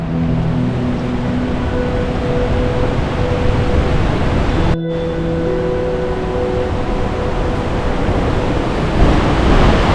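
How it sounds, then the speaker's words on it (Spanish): A large waterfall pours beside an old restored mill in the gorge at Ronda, giving a loud, continuous rushing roar with a brief cut midway. "Mirad qué gran cascada pasa por su lado."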